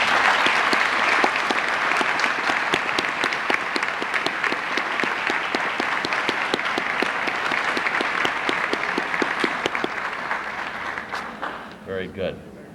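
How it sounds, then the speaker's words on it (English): An audience at a 1991 school district awards evening gives sustained applause for the district's teachers. The dense clapping is steady and loud for about eleven seconds, then thins out and fades. "join in a round of applause to all our fine teachers in this district"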